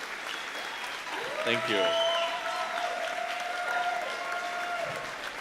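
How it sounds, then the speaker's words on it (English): Audience applause for performers at a variety song show, a steady crowd clapping that runs under a speaking voice and a sustained sung or tonal note, moderately distant. "Give these guys an awesome round of applause."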